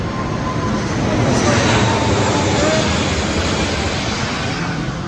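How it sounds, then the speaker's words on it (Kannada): A loud, steady engine roar of an airplane passing overhead in Dubai fills the whole stretch with a broad, continuous rumble. "ಇಲ್ಲಿ ಏರೋಪ್ಲೇನ್ ಹೋಗ್ತಾ ಉಂಟು ಗೈಸ್"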